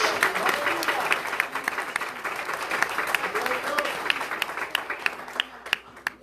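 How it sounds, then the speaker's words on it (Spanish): A church congregation applauding during a sermon, dense sustained clapping from a crowd with a voice carrying over it, thinning to scattered claps near the end. "¿Por qué no le da un aplauso más fuerte a ese Dios?"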